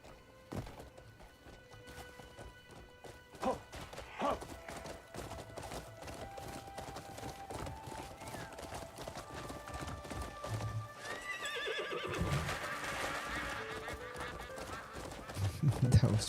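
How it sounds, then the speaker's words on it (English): A horse in the game Crimson Desert gallops with loud, rapid clip-clop hoofbeats, then whinnies clearly, with thuds and shifting movement around it and a voice speaking briefly. "Easy, horsey."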